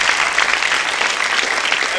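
Audience clapping at an essay contest awards ceremony, a dense, continuous wash of applause from a crowd, loud and steady throughout.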